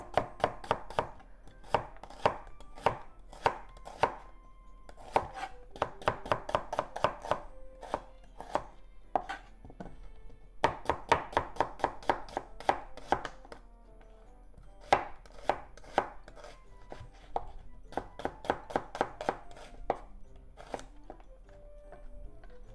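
A knife cuts an onion into thin slices on a cutting board for shrimp and onion kakiage tempura. Crisp, rapid chopping strokes come in dense rhythmic bursts separated by short pauses, close and clear, with no talking.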